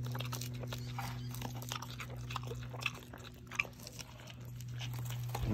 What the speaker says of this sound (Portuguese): Até o beicinho vai comer milho verde.